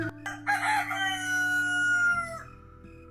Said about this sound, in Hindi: अचानक दूर से मुर्गे की आवाज सुनाई दी।